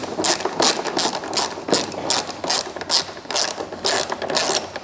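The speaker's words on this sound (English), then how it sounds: "Every time you ratchet a ratchet, it's a different number of teeth you've ratcheted backwards and forwards." A ratchet wrench clicks in rapid bursts of sharp metallic ticks, repeated back and forth in a quick uneven rhythm, close and loud with no talk over it.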